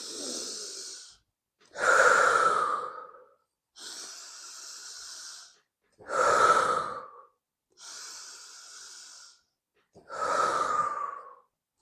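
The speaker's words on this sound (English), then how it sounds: "The idea is sort of continuous breathing." Slow, steady breaths repeat alone at close range during squats, each long hissing inhale or exhale followed by a brief pause, about six breaths in all with no talking.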